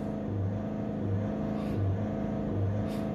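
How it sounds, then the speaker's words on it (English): A Land Rover 2.0 Ingenium diesel engine with a suspected EGR or DPF flow fault, close up in a workshop and revved up and down in four repeated swells over a steady running hum. "Let's just give it some revs up and down, see what's happening."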